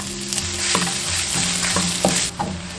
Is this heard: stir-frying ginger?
yes